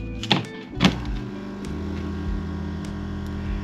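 Koi pond air pump plugged in and running noisily, a steady low electrical hum and buzz with a couple of brief clicks near the start, close and alone.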